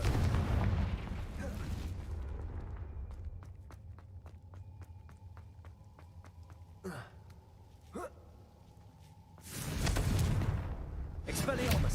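A Confringo spell blast in Hogwarts Legacy bursts out in a loud rumble, followed by a run of sharp rhythmic impacts and another heavy blast near the end, with game voices briefly heard.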